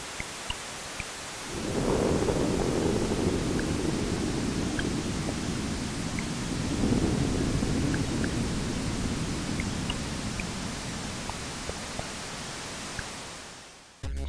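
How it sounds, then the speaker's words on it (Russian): Steady heavy rain hisses as a broad wash of noise, with a rumble of thunder swelling in near the start and again midway, in the intro of a Ghosts 'n Goblins computer game port. "поразительно реалистичный дождь в заставке порта игры Ghosts and Ghosts"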